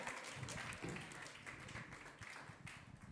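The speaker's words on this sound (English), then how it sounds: "Let's give her a round of applause." An audience applauds a contestant named Ariana as she comes up to the stage at the Rivercity Idol singing competition, with steady mid-distance clapping filling the whole stretch.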